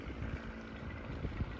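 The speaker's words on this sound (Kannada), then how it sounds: "ಯಾರೋ ಒಬ್ಬರು ಅವ್ರ ಬೋಟ್ ತೊಗೊಂಡು ಹೋಗ್ತಾ ಇದ್ದಾರೆ" A boat moving across a lake in Sweden hums low and steady under a soft wash of wind and water, faint and distant throughout the short stretch with no talk.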